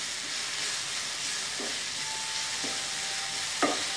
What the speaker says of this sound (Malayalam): 1/4 സ്പൂൺ മഞ്ഞപ്പൊടിയും കൂടെ ഇട്ട് ഒന്ന് ഇളക്കി കൊടുക്കാം